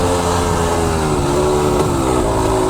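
A KTM 300 two-stroke enduro dirt bike revs hard while climbing over rocks on single-track, a loud, close, steady engine whine with a short burst of throttle partway through.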